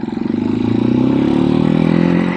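A Janus Halcyon 250 single-cylinder motorcycle engine revs up close and loud, a steady rapid thumping pulse climbing smoothly in pitch over a couple of seconds.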